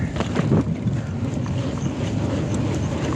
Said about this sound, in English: I'm going against the wind now too.